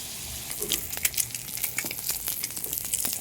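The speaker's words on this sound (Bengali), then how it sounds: "প্রথমে আমি আলুগুলো ভেজে নিচ্ছি" Potato pieces frying in oil in a pan on a stove, with a steady close sizzle and crackling pops throughout.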